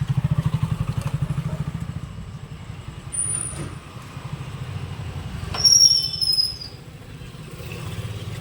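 A motorbike engine idles and putters steadily nearby, with a louder rising whine partway through as it revs, then settles back.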